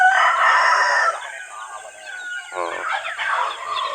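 Free-roaming chickens clucking and crowing close by, a loud burst of calls at first, then a busier mix of softer clucks and squawks.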